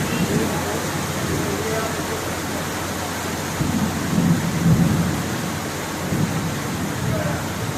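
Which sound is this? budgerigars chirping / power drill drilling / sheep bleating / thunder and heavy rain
thunder and heavy rain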